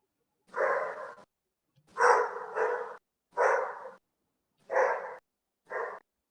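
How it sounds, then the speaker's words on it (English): Dogs bark in five separate bursts spaced about a second apart, some doubled, fairly loud and muffled as if from another room, with silence between. "What are they barking at?"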